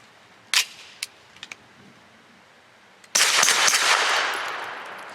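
Grand Power Stribog pistol-caliber carbine firing Archon 124 grain jacketed hollow points: one sharp report early, a few fainter clicks and pops, then a loud burst of close shots with a long ringing tail.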